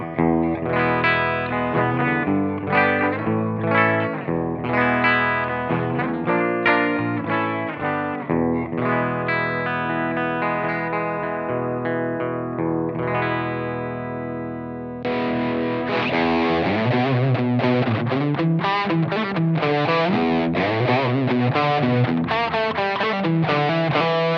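Clean electric guitar through a Blackstar Dept. 10 Amped 1 pedal in 6V6 mode, bright and snappy chords and single notes ringing out loud and close, with a slightly fuller tone midway.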